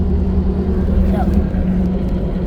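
A car driving through a storm in Oklahoma, with a steady low engine and road rumble under heavy wind and rain noise close around the vehicle, continuing throughout.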